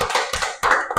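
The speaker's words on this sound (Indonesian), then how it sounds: "tepuk tangan untuk kelompok 2" A classroom gives a brief burst of clapping for a student group, heard as a few quick, noisy rounds of hand claps close by with no talk.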